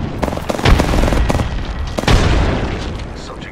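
Two heavy frag grenade blasts in Apex Legends, one at about 0.7 s and another near 2.1 s, each a deep booming burst with a rumbling tail, mixed with scattered gunshots and game voice lines.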